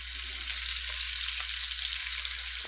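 Garlic, ginger slices, hot long peppers and bay leaves frying in a pan, giving a soft, even hiss of sizzling oil that holds steady throughout with no voices.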